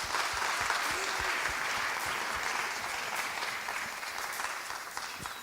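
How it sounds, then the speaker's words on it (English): Audience applause at an awards ceremony, a broad sustained roar of many hands clapping at once, steady and full, easing slightly toward the end. "Big round of applause."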